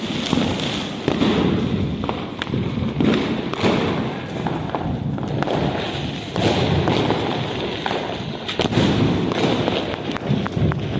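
Diwali firecrackers going off outdoors, a series of sharp bangs and thuds scattered irregularly over a noisy background, some close and loud, others quieter.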